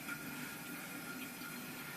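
A toilet tank refilling with water after a flush during a tank rebuild, heard as a steady, continuous hiss of rushing water at a constant level with no talk.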